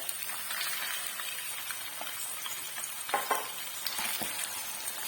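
Potatoes, boneless chicken and tomatoes frying in oil in a pan for chicken katakat, a steady close sizzle with crackling pops and occasional stirring scrapes.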